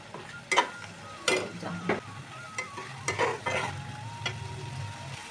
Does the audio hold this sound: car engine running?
no